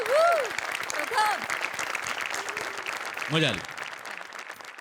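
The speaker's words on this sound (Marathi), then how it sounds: "प्रथमेशसाठी जोरदार टाळ्या व्हायला." An audience at a Marathi comedy show claps loudly and steadily, the applause swelling at the start and rolling on while a host talks over it.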